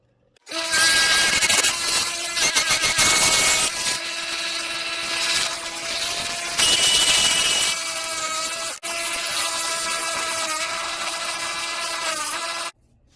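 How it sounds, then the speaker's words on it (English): A large drill bit boring into a purpleheart and cedar blank on a wood lathe, a loud continuous whirring grind with a steady pitched hum that shifts in intensity as the bit feeds in, briefly pausing once before continuing. "Got one of the largest drill bits I have because my Forstner bits seem to stall out the lathe every time I try to use them."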